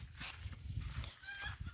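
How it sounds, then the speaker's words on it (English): Chickens squawk and cluck in a noisy, agitated burst, several birds calling over one another at close range. "Chickens are losing their minds."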